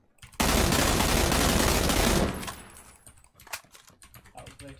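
Rapid automatic gunfire in PUBG: a loud, dense burst of shots lasting about two seconds, then a quieter tail of scattered clicks and ambient noise.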